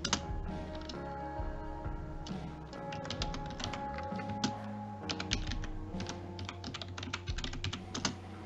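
Rapid computer keyboard typing clatters close and steady throughout, dense irregular keystrokes with occasional louder taps, over a background of game music during a livestream of Beyond: Two Souls.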